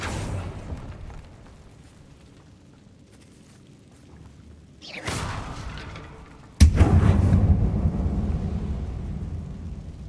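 Fiery blasts from the Confringo explosion spell in Hogwarts Legacy: a sharp booming burst with a rumbling tail, then a louder second blast that keeps roaring over a low background.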